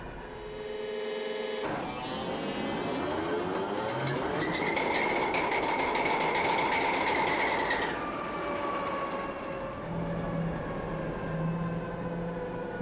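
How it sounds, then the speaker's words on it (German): The Kolomna 5D49-16 V engine of a Ludmilla diesel locomotive rumbles steadily at close range, its tone rising and shifting as it revs, with a faint whine over the top. "Der Kolomna V-Motor"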